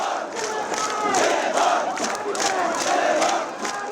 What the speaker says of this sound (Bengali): সেখানেও একই দাবি নিয়ে চলতে থাকে স্লোগান